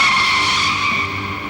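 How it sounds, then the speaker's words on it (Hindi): A car's tires squeal loudly as it brakes hard to a stop in a Hindi crime drama, one sustained high screech that holds steady and then eases slightly as the vehicle halts, with no talking. "गाड़ी रोको।"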